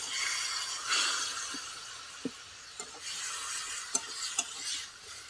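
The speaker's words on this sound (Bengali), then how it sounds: "গুঁড়ো মশলাগুলো যাতে পুড়ে না যায় মিশিয়ে নেব" Ground spices stirred in a hot pan with a little water, close and continuous scraping and sizzling with a few sharp clinks of a utensil against the pan, no talk.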